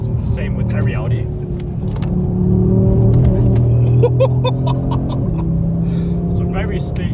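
Audi RS3 engine intake and exhaust droning steadily while driving fast, a loud continuous low rumble that rises slightly mid-pass before easing off, with occasional clicks and cabin noise over it.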